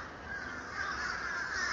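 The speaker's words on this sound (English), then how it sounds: "American crow and fish crow in there?" American crows and fish crows caw from a distance in winter, harsh calls overlapping in a continuous chorus from more than one bird.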